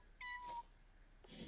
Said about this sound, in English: Oh, we're hugging the kitten.